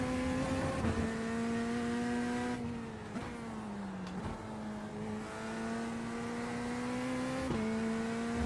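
GT3 race car engine at Watkins Glen in iRacing, a steady loud drone holding a high pitch, with small dips and shifts where the revs change through corners and gear changes, heard alone.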